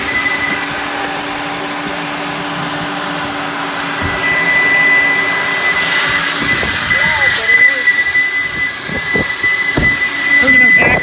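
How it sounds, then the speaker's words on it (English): A JE Adams Turbo Vac at a car wash in Ocean Shores roars loudly with a steady high whistle that grows sharper partway through, while people talk over the noise. "We're gonna vacuum some of the dirt off."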